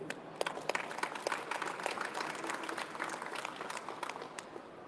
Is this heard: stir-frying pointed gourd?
no